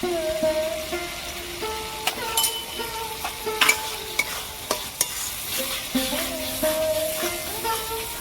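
Cumin and coriander powder stirred and sautéed in a pan for a Bengali shol fish curry, with intermittent scraping strokes and clinks over a soft steady sizzle, close and moderately loud, plus faint background hum.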